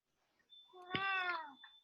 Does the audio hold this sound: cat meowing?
yes